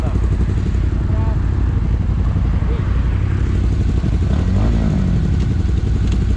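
Off-road motorcycles, including a WR 125 and a Honda 125, ridden with a Yamaha Raptor 700 quad, give a steady, loud engine drone with clattering throughout, recorded close on the move.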